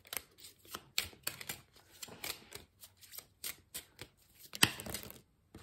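Tarot cards are laid out one by one on a table, making a quick run of soft, crisp slaps and flicks at an irregular rhythm, close and fairly quiet.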